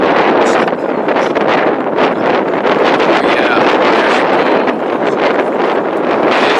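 Strong wind buffets the microphone continuously, a loud roaring rush with gusty fluctuations throughout and no voices.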